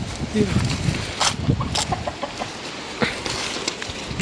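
Chickens cluck in short, scattered bursts close by, with soft rustling and a voice speaking now and then.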